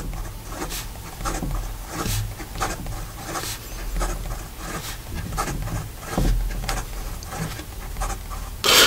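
A Conklin Conklinetta fountain pen writes fast on paper, making a continuous dry scratching with quick, uneven strokes, close up with no voices.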